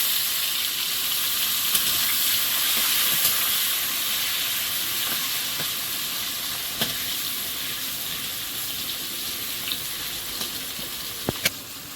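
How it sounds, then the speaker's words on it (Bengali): Chopped onion fries in mustard oil in a wok, giving a steady, close, dense sizzle throughout with a few faint clicks and no talking. "পেঁয়াজ কুচি তেলের মধ্যে"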